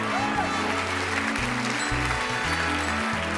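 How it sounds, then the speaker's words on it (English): Steady audience applause fills a theater at a charity musical event, a continuous patter of many hands layered over low, sustained musical tones. "let's give our 6 charities and special guest presenters a round of applause"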